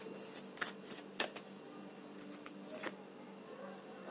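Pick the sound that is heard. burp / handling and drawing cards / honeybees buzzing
handling and drawing cards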